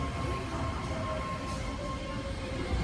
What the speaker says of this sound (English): Here comes the special Mickey train.